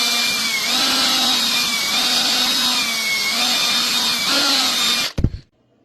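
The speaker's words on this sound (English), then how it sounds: "drill into that side" A power drill bores steadily into a wooden panel for mounting a deer skull with its lower jaw, whining loud and close for about five seconds before stopping abruptly with a short clatter.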